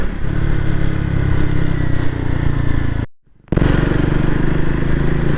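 Triumph Speed 400 single-cylinder engine while riding, a steady loud mid-pitched drone with clattery texture that cuts out briefly near the middle and resumes just as strong.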